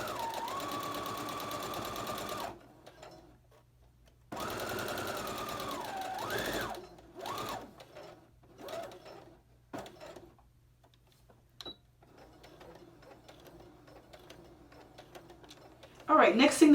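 Sewing machine stitching a coat collar, bursts of steady motor whir and needle ticking that stop and start between quieter pauses, with someone talking at points.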